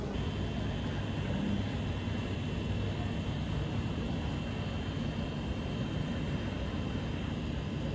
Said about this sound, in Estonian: ametlikult lennu peale istutud 13 tundi lendu Singapurist Helsingisse